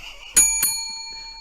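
Two quick rings of a bicycle bell, the second a moment after the first, each leaving a clear metallic ring that slowly decays, heard close and alone.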